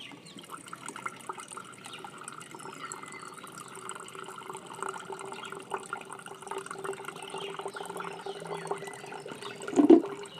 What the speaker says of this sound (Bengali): ছাকনাতে করে এবার আমি ছেঁকে নেব